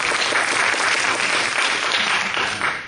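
A seminar audience at a green energy forum breaks into steady, dense applause, filling the room with continuous clapping and no voices over it.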